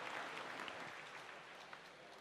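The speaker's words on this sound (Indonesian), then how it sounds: "kita berikan aplaus" Audience applause at an Indonesian Islamic question-and-answer talk, a soft, distant, even clapping that carries on for the whole stretch without pauses.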